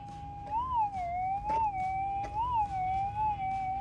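A metal detector sounds off over a gold target while prospecting for gold in winter: a continuous, loud, close electronic tone that warbles up and down in pitch in slow waves, with no talking.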